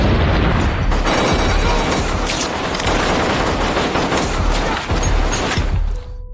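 Loud, sustained film battle noise with booming grenade explosions and bursts of gunfire rolling on without pause.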